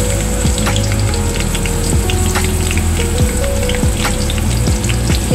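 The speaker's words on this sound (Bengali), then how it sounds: "এরপরে আমি ওই তেলে পেঁয়াজটাকে ভেজে নেব।" Sliced onions fry in oil left over from frying eggs, giving a loud, steady, close sizzle broken by occasional pops and scraping clicks of a spatula.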